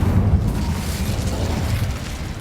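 A fire spell cast in Hogwarts Legacy bursts into a loud, sustained roaring blast with a dense low rumble that stays strong and steady for the whole stretch.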